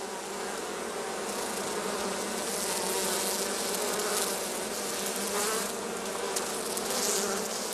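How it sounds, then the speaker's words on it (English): Many honey bees at a heather skep apiary in spring buzz steadily all around while foraging, a dense, continuous hum with individual insects drifting closer and farther, no voices. "the bees are now busily collecting pollen and water to help build up the brood"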